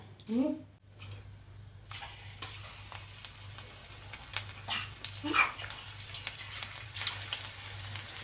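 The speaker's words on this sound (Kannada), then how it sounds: "ನೋಡಿ ಚಿಟಪಟ ಅಂತ ಹೇಳ್ತದೆ ಎಣ್ಣೆಗೆ ಹಾಕುವಾಗ" Dough fries in hot oil, a dense sizzle with sharp crackles building steadily after a brief voice and some clatter at the start.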